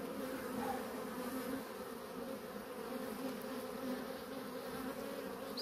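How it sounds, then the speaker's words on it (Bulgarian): Honeybees hum in a dense, steady swarm drone as they are put back into the hive one frame at a time, a close, continuous buzz with no voices. "Сега една по една връщаме пчелите обратно."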